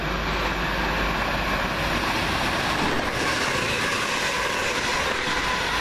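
A London Midland train runs past at Lea Hall station, giving a steady, loud rumble of wheels on rails with a faint rhythmic clatter that holds throughout.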